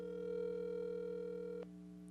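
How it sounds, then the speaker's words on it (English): A steady telephone dial tone hums on a call being placed, moderately loud and alone, cutting off sharply near the end with a faint click. "You're really calling your mom."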